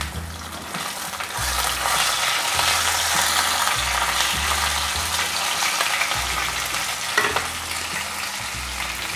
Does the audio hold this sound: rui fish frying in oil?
yes